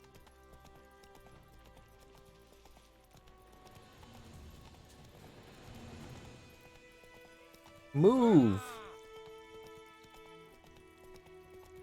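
Horse hooves galloping in The Witcher 3 video game, a steady clip-clop running under game music, with a short shouted voice near the end.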